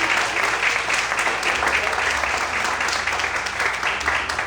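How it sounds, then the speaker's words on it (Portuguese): Church congregation applauding during a sermon reflection on Psalm 91, sustained dense clapping throughout at a steady moderate level. "Quantos podem aplaudir e glorificar a Deus amanhã de hoje?"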